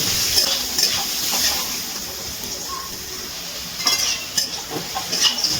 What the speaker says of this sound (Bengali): গ্যাসের ফ্লেমটা হাইতে দিয়ে আলুটা লাল লাল করে ভেজে নিচ্ছি।